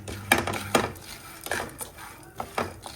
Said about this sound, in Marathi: हे पण छान ड्राय रोस्ट करून घ्यायचं आहे